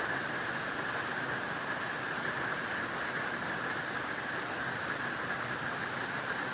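Steady rainfall in Florida, a continuous even hiss of drops on surfaces, moderately loud and unbroken throughout with no voices.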